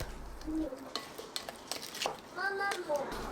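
Sugar, vinegar and soy sauce stirred together in a bowl for a Japanese bento, with light clinks and scrapes of a utensil against the bowl in a few short bursts.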